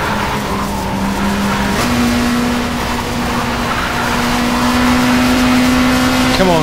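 Touring race car in the World Touring Car Champ video game at Curitiba accelerating hard, a loud sustained engine drone with upward-shifting pitch and tyre noise throughout, close and continuous without speech.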